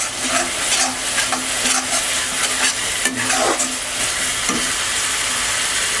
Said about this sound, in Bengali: সুন্দর করে হালকা হাতে কচুটা ভেজে নেব।